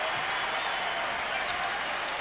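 Dense, steady applause and cheering fill a Tennessee basketball arena during a 2002 game against Syracuse as the crowd stands, loud and continuous throughout with no break.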